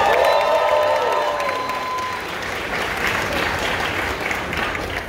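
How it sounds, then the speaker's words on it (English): A large audience at a JPMorgan Chase event applauds Stephen Curry with steady, dense clapping and some cheering that holds loud for about five seconds, with faint tonal music early on. "Let's give this man a round of applause."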